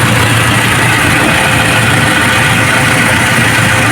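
A Toyota Fortuner gasoline engine idles smoothly and steadily close by, a continuous even rumble with no voices over it.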